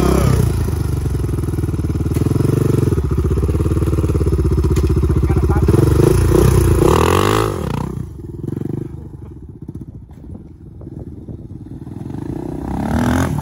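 Motorcycle engine idling and revving loudly up close while a beginner learns to ride, a strong steady drone that drops away partway through, leaving thumps and clatter.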